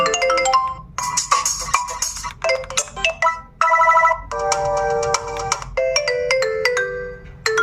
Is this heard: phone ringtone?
yes